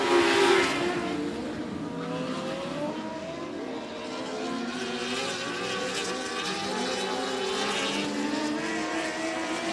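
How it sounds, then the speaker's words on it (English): Dwarf cars racing on a speedway, engines roaring and whining as the pack passes and revs climb and fall, loud and continuous with overlapping motor tones and an especially loud burst at the start. "20 laps of dwarf car racing."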